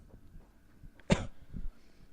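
A single sharp, close cough from a preacher, one brief harsh burst followed by a softer throaty catch, in an otherwise quiet room.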